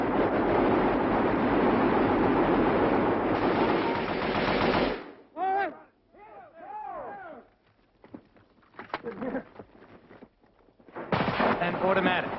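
Private citizens fire machine guns and automatic weapons in a long, dense, roaring burst, then scattered shorter volleys and ringing reports, with another sustained burst at the end, loud and outdoors.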